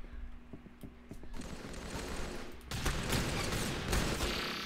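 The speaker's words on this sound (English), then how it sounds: "I'm shooting this man and it's doing no damage." Gunfire in the Roblox shooter Arsenal: a handful of sharp, quiet shots in a brief quick run, then a louder and denser stretch of rapid firing and clatter that carries on to the end.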